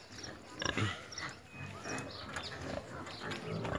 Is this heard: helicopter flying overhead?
no